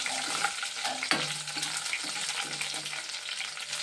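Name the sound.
curry leaves frying in a pan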